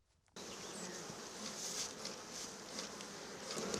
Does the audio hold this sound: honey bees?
yes